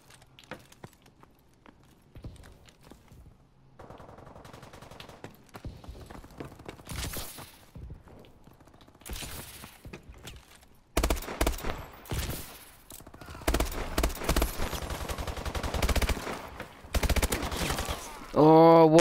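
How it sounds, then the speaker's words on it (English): A burst-fire weapon shoots in Call of Duty: Advanced Warfare, with sparse quiet clicks and steps early, then loud clustered bursts of gunfire filling the second half, a voice talking at times. "Oh, it's the burst fire weapon, wasn't it?"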